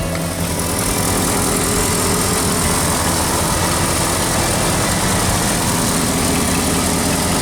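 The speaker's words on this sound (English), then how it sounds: "it's idling on its own now" A truck engine idling steadily on its own just after an oil change with conventional oil, a loud continuous low rumble with even vibration and no stumbling, heard close up with no talk.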